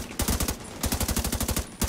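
Submachine gun firing in a video game, several quick bursts of rapid automatic shots, close and loud, with brief gaps between bursts and no talk.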